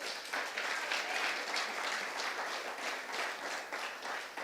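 Steady applause from a church congregation, a dense wash of clapping that stays even and fairly loud throughout.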